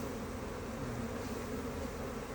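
Honey bees shaken from a hive frame during a hive split, a dense continuous buzz from many insects filling the air, steady and fairly close, with no talking.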